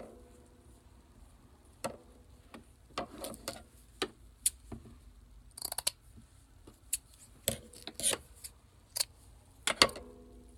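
Scissors snip through a cut-off piece of blanket binding, giving a string of sharp, close crisp cuts at irregular intervals, sometimes in quick pairs, against a quiet background.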